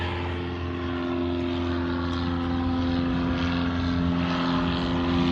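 A propeller airplane drones steadily at Hawthorne Airport, with a loud, continuous tonal engine hum and a slight swell as it passes, with no voices.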